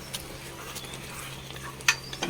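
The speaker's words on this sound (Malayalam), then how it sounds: "നന്നായി ഇളക്കി കൊടുക്കാം ഉപ്പ് എല്ലാ ഭാഗത്തേക്കും" Rice mixed with crushed rock salt for Vishu katta is stirred in a pot, giving close, repeated scraping strokes over a faint hiss, with a sharp metallic clink near the end.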